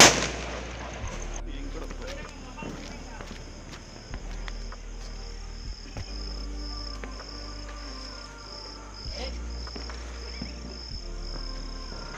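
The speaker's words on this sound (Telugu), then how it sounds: "ఏ తమాషాలు కాదు, అవి వంకాయ బాంబు అది" Brinjal bomb firecrackers burst during Diwali celebrations outdoors, a handful of sharp loud bangs scattered through the stretch, with crickets chirping steadily in the night background between blasts.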